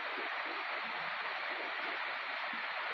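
Waterfall pouring into a river, a steady broadband rush of falling water that stays even and continuous, close and fairly loud, with no voices.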